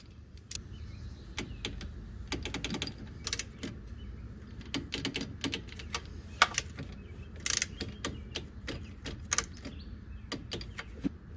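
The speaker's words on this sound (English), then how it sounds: "So I'm going to go ahead and torque these bolts." A ratcheting torque wrench tightening valve cover bolts on a Corvair engine, with repeated close clicking and metallic mechanical rattles in irregular bursts, fairly quiet and with no talk.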